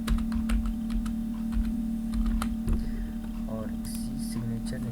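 Rapid, uneven keystrokes on a computer keyboard while entering a signature line into an Excel invoice sheet, crisp nearby clicks in quick bursts over a steady electrical hum.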